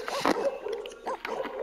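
Dogs in The Sims 4 give short, soft yips and whimpery barks, a couple of quick calls within a brief moment, with faint background sound.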